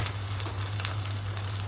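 Ground spice paste fries in hot oil in a pan, giving a close, continuous sizzle over a low steady hum.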